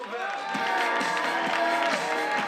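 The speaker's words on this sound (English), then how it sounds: "Put your hands together for the Smoke Taco" Audience applause and cheering fill a comedy theater, a steady dense wash of clapping from a crowd that holds at the same level throughout.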